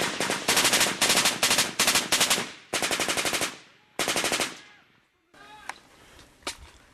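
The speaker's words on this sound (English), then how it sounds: "There's a machine gun out there." Sustained machine gun fire during a combat contact in Afghanistan with Australian troops, loud repeated bursts of rapid shots with short pauses between them, followed by quieter distant single cracks and echoes.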